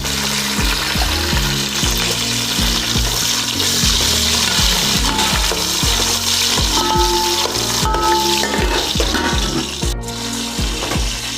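Carrots tossed into a hot pan of oil with bay leaf and chilies for bagara rice, giving a steady, close sizzle and hiss that runs the whole time beneath a rhythmic background music track.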